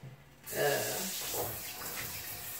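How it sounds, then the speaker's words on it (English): A skillet washed under a running kitchen tap, water switching on after a brief quiet moment and then splashing and gushing steadily against the pan close by. "on this, this skillet, I'm just gonna wash it"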